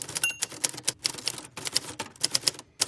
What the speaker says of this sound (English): That's the sound of typing.